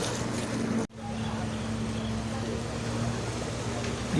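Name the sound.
jet ski engine started and running on water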